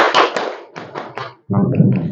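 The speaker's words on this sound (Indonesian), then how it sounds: "Tepuk tangan, tepuk paha, injak bumi" A group claps hands, pats thighs and stomps feet in a classroom body-percussion routine, giving a few loud, uneven percussive hits followed by a dense burst of mixed slapping and thumping.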